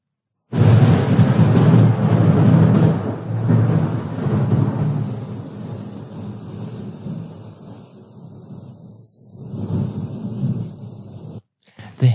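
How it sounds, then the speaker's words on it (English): Rain hissing through a thunderstorm, with a loud rolling thunder rumble at first that fades into a steady rain hiss before a brief swell and a sudden cutoff. "The hissing that you hear in between is actually the sound of the rain."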